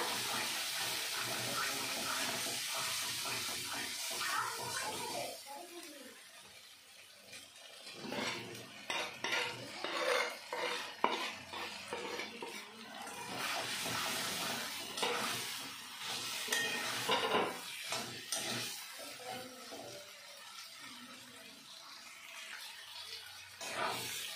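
Fried potatoes and cauliflower stirred into sizzling spice masala for a vegetarian Bengali cauliflower dalna: steady close frying hiss under repeated scraping of a spoon and clinks against the pan, running continuously with no voices.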